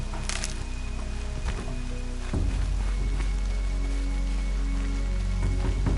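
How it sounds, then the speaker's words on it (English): Steady rain in the video game Horizon, hissing and pattering as a constant wash with a few crisp wooden knocks, loud and close, with no talking. "More rain"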